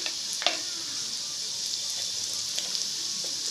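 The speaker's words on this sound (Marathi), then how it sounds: "आता हे तेल ठेवलं, ह्याच्यात मसाला घालून घ्यायचं बघा." Masala spices sizzle steadily in hot oil in a pan, a dense close hiss with a few sharp pops and light stirring clicks, no talking.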